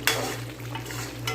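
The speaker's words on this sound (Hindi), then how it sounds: "हल्का सा चम्मच भी चलाते रहना है, ताकि नीचे नहीं लग जाए।" A spoon stirs chicken karahi in a pan, giving a short burst of close metallic scraping over a low sizzle and steady hum.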